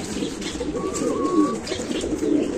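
A racing pigeon coos softly and close by during a final lap race return in Catbalogan City, a low rolling call repeated against steady outdoor background noise.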